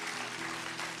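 A church congregation applauds during a sermon, a steady wash of many hands clapping at once, continuous and moderately distant.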